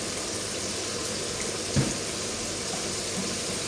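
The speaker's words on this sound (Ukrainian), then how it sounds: "коли перчик підсмажився, додаємо наші грибочки сюди" Oyster mushrooms tumbled into a pan of frying peppers and tomatoes over medium heat, giving a steady broadband hiss of sizzling oil with a brief louder sputter as they land.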